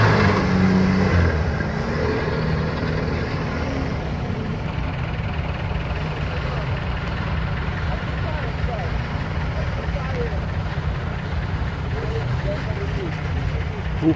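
An off-road vehicle rolls past at an off-road festival, its engine a steady, rough rumble mixed with broad outdoor noise as people talk nearby.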